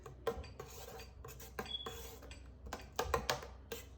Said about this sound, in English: So you want to mix it well. I think using a whisk will be good for this.